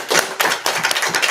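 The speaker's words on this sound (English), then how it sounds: "And so it is worth clapping." Audience members clap at a city commission meeting, producing a loose, uneven patter of claps in a room, moderately loud, with irregular bursts rather than a steady roll.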